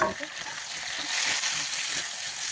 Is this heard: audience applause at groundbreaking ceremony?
no